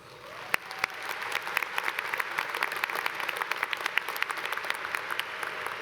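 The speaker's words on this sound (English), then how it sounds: "we should all give them a round of applause" Audience applause for university faculty at a 2015 commencement ceremony, a dense steady crowd clapping with a few sharper individual claps standing out, sustained throughout.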